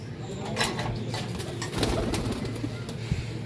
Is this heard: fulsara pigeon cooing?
yes